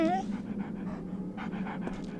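A dog panting in the Metal Gear Solid video game: quick, steady breathy huffs close by, with a brief high whine at the start and game voices talking over the top.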